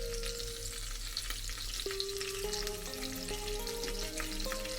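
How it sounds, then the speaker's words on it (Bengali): Bengali fish oil (machher tel) frying and being stirred in a pan, a continuous loud sizzle with soft stirring scrapes under a steady background hum, no talking. "মাছের তেলটা দিয়ে একটু নাড়িয়ে"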